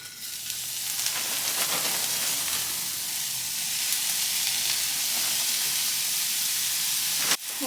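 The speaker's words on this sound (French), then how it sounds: "on va mettre les poireaux, je vais les faire un peu dorer" Leeks browning in olive oil in a frying pan give a steady, close sizzle and hiss throughout, with no talking and a brief knock near the end.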